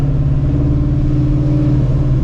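A Ford Shelby GT350 on a test drive after a shop repair gives off a loud, steady engine drone with a strong low hum and road rumble inside the car, no voices.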